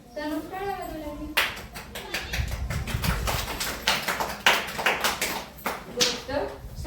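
Small hands clap in a quick rhythm, close and fairly loud; a voice is heard at the start before the claps.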